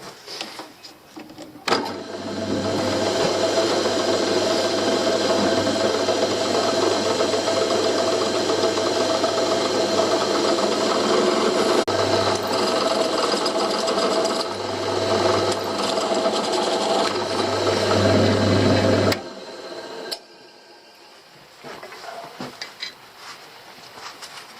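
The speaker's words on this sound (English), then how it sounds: "Going to taper the holes for the screws" A power drill runs steadily and loudly for about seventeen seconds, tapering screw holes in a fitting during the refit of an old Orkney Fastliner 16 boat, then stops, leaving quieter workshop sounds.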